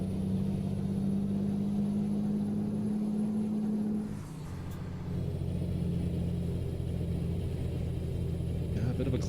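A truck climbs a hill in American Truck Simulator, its engine a steady low drone that stays up front. The pitch and load shift partway through, then it settles back into a sustained pull.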